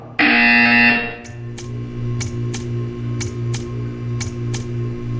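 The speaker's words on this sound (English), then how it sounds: "You will hear a buzzer." A loud electronic buzzer blares for about a second in the video game Portal 2, followed by a steady low hum and a series of regular ticking clicks.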